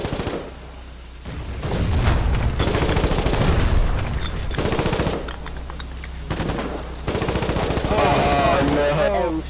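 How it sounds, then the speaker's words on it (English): Rapid bursts of video game machine gun fire, loud and sustained, overlapping with heavier gunfire and booms, while players talk over the shooting. "There's machine guns."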